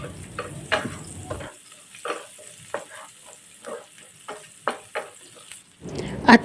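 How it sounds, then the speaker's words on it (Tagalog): Onion sizzles and gets stirred in a hot pan for buttered garlic shrimp. There is a steady frying hiss, with repeated scraping stirs at an irregular rhythm, close and clear. "Next, igigisa na natin yung ating onion."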